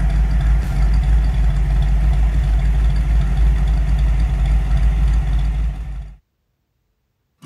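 A two-tone blue Chevrolet C-10 pickup truck idles with a deep, steady low rumble and a faint clatter, running evenly and close for about six seconds before cutting off abruptly into silence.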